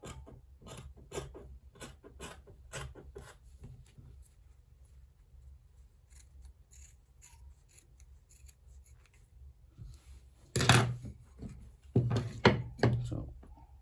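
Scissors trim fabric while a senator top is cut by a tailor, giving a rhythmic run of crisp, close snips that turn louder and denser near the end, with a voice talking around them.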